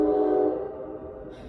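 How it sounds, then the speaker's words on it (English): A passing train heard outdoors, a loud sustained horn-like drone that holds steady and then fades over a moment and a half, with no talking. "Should I out-talk the train, or should we take a deep breath?"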